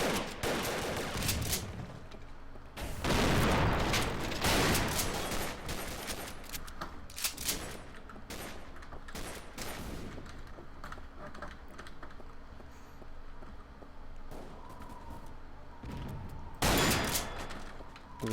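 Gunfire in the video game Double Action: Boogaloo, loud bursts of shots in clusters with short gaps between them, near and harsh, with no talking over them.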